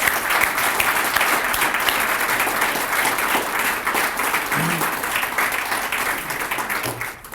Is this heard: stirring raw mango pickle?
no